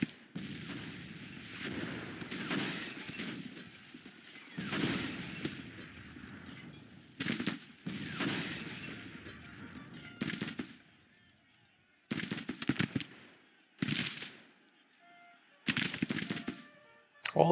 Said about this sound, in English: All these artillery with no guns that are firing cannons at us.